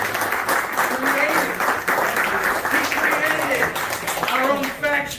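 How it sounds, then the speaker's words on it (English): Audience at a BotCon 2023 convention panel breaking into steady applause, clapping sustained throughout with voices talking over it. "Give him a round of applause."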